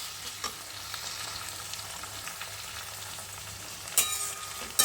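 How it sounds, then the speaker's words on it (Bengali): Onions fry in a pan, a soft, steady sizzle with light stirring scrapes and a louder clatter of the utensil near the end. No one speaks. "এই যে পেঁয়াজ ভাজা চলছে"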